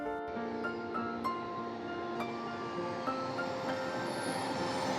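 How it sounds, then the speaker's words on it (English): A high-speed train pulling into a station in Milan: a steady, loud rolling rumble with faint metallic ticks and a thin high squeal, continuous throughout and with no voices. "my train arrived in time"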